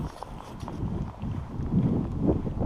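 Wind blows across a cold, snowy winter flying field for model planes, a steady low rumble buffeting the microphone with gusts growing stronger toward the end, close and continuous.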